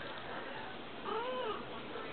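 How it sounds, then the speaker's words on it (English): A kitten lets out one brief, rising-and-falling meow midway through a quiet indoor scene. It sounds soft and somewhat distant against faint background noise. "Say hi to the kitty."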